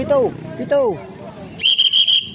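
A whistle is blown in a run of short pips, loud and close, following two falling whistled or voiced tones at the start.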